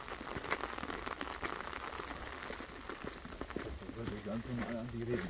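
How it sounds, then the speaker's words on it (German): Rain falls outdoors on a trip to the Engelsblick viewpoint, a steady, close crackling patter throughout, with a voice rising under it toward the end. "wie schön ist das bitte mit dem Regen"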